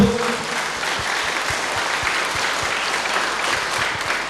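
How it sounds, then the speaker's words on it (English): A congregation at a Catholic retreat in Mizoram gives a loud, sustained round of clapping, dense and even throughout, with a faint rhythmic thump pulsing underneath. "Let us give a mighty clap to our Lord."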